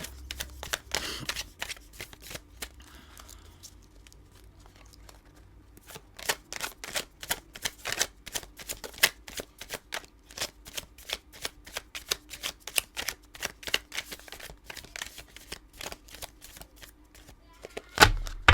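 Tarot cards are shuffled in repeated quick riffles and bridges, a dense run of crisp flutters and snaps with a few pauses, close and alone without talking.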